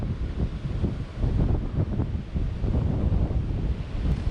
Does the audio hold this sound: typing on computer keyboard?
no